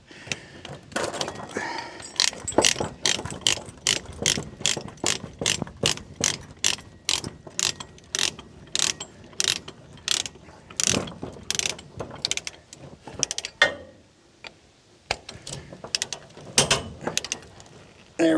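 Vevor ratchet chain binders are cranked tight to secure a tractor for hauling, giving close, loud, rapid runs of metallic ratchet clicks with short pauses between bursts.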